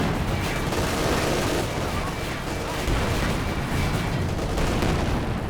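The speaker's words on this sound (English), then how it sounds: "The machine gun gets the job done." Machine gun fire in a Company of Heroes 2 battle, dense sustained bursts mixed with booming explosions and artillery, loud and continuous across the whole stretch, with no voice over it.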